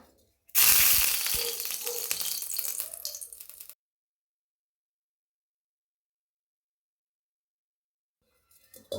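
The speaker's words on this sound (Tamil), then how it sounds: "அடுத்தது கடுகு போட்டுடலாம்" Mustard seeds hit hot oil in a home kitchen pan, giving a loud burst of hissing, crackling sizzle for about three seconds before cutting to silence.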